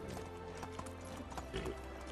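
A horse's hooves clip-clop steadily in the medieval survival game Medieval Dynasty, with a faint whinny, a quiet game soundtrack and a little speech in the background.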